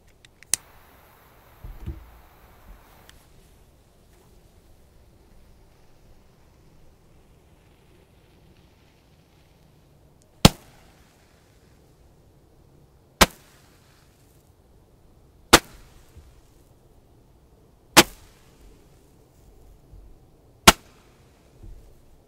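A five-shot firework battery: five sharp, loud bangs go off one after another, spaced a few seconds apart, with quiet in between. A brief fizzing whoosh can be heard at the start.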